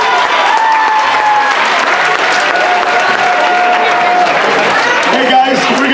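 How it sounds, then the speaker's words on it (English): An assembly audience at a United Methodist Church gathering claps steadily and loudly, with crowd noise and voices mixed in throughout. "Come on, let's clap it up."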